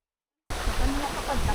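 A waterfall at Solcok Falls in Vintar, Ilocos Norte sends up a loud, steady broadband rush that starts abruptly after a short silence, with indistinct voices faintly mixed under the roar.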